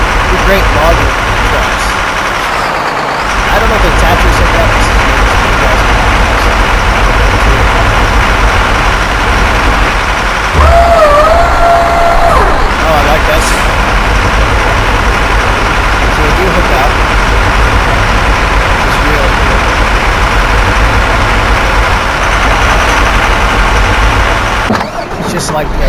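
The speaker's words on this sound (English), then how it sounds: "Great logging trucks." A logging truck engine in Farming Simulator drones steadily for most of the stretch, a loud, continuous motor rumble with a brief tonal whine in the middle and game ambience around it.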